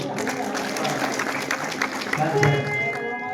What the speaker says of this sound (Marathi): आमच्या संगीता ताईसाठी एकदा जोरदार टाळ्या वाजवा